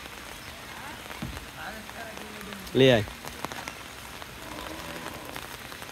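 Steady rain falls throughout, a continuous hiss as a vehicle is sent off in the downpour, with one brief voice speaking over it midway.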